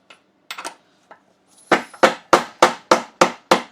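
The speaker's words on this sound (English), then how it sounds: "I have been whacking it with a hammer and this bar, just millimeter by millimeter." A hammer and a metal bar strike a seized rear axle on a Ducati motorcycle: a few lighter, scattered taps, then six loud, evenly spaced, ringing metallic blows close by.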